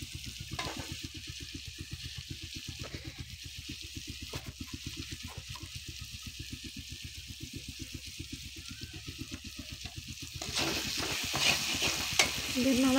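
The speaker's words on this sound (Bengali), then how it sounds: "দিয়ে নাড়াচাড়া করে কষতে কষতে একটু জল দিয়েছি।" Spices with chili powder fry in a pan for an egg curry, a close, even sizzle under a fast regular scraping of the spoon, growing louder and hissier near the end.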